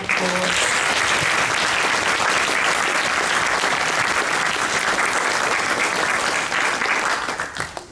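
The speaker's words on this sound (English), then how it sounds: "Can we please give another warm applause?" Loud, warm applause from the audience at a school instrumental ensemble concert, dense and continuous before tapering at the very end.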